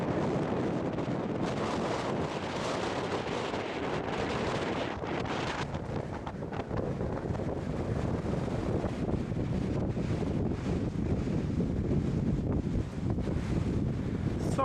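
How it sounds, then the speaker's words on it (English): Strong gusting wind buffets the microphone on the summit of Blencathra in the Lake District after a scramble up Sharp Edge, a constant roaring rush with no speech. "Sorry about the wind."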